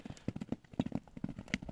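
A horse's hooves clip-clopping on an asphalt road, a quick, close, lightly irregular run of hoof strikes with no talk.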